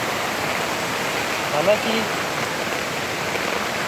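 Waterfall at Nainital in the rainy season, a loud continuous broadband rush of falling water filling the whole scene, with a brief spoken word barely audible over it.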